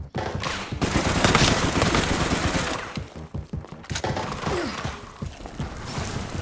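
Dense gunfire from the RE: Reverse video game rattles in rapid bursts, loud and close, with a brief lull before the shots pick up again.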